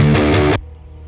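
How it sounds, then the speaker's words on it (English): A short stream alert chime for a new follower, heard during a Total War: Warhammer 2 campaign stream, rings loud and bright for about half a second and then cuts off abruptly, leaving only quiet background hum. "That's the sound of a new follower."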